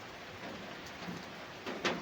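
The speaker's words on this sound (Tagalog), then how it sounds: "medyo maingay kasi umuulan" Steady hiss of rain falling, fairly quiet and constant, with a couple of brief louder patters near the end.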